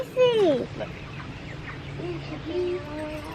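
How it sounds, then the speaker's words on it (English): Chickens in a farm coop give a loud squawk followed by softer clucks and a drawn-out call, with quiet background murmur throughout. "Look at the chickens, they're so big."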